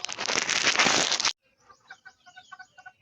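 A burst of rustling and flapping gives way to soft, chirpy quacks and peeps from a few ducks, close by and repeated in short bursts.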